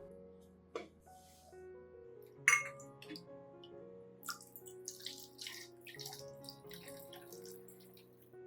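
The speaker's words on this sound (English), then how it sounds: "I'll pour the prepared solution into a spray bottle." Diluted rice flour solution is poured into a spray bottle, making faint trickling and liquid splashes with a few light clinks of the container, quiet and close under a soft background tone.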